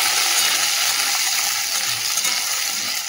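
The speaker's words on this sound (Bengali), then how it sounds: "দেখো আলুটাকে একটু হালকা করে ভেজে নিচ্ছি" Potatoes fry in a pan of oil tempered with cumin seeds and bay leaf, giving a loud, steady, dense sizzling hiss with faint stirring and no voices.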